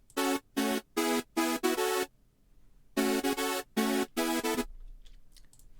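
A second layer of a hardstyle synth lead built in FL Studio plays alone: bright, buzzy, harmonically rich stabs in two rhythmic bursts of five and four notes, separated by a short pause.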